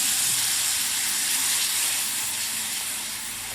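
A spice paste of turmeric, cumin and chili powder with tomato and a splash of water sautés in a pan for a tengra fish dish, hissing loudly and steadily before easing off slightly at the end.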